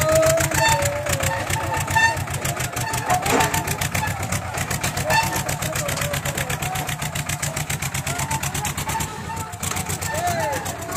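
A tractor engine runs on the Kedarnath footpath, a loud rapid chugging that holds steady throughout, with a voice talking over it.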